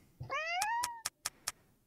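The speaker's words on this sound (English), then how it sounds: "Meows again, clearly begging for food." A video game cat gives one rising, drawn-out meow, followed by four quick evenly spaced knocks or taps, all close and fairly quiet.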